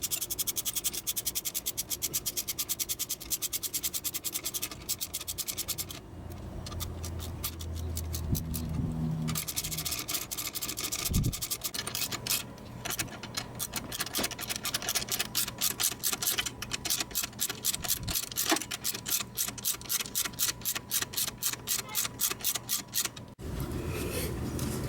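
A 13mm socket tightens a bolt while replacing the compressor pulley on a 2009 Toyota Corolla, with rapid repeated ratchet clicks and metallic scraping in bursts, close up and fairly quiet.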